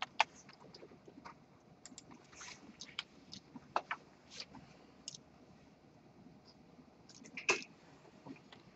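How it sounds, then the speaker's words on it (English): Someone types on a computer keyboard while launching PyCharm, producing faint, sparse clicks and short bursts of keystrokes at an uneven pace in a quiet room. "typing in PyCharm."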